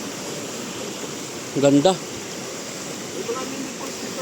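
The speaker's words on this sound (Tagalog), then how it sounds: "May mga mini falls." Small waterfalls between two rivers on a farm lot rush in a steady, broad roar of flowing water, with one short spoken word breaking in over the sound partway through.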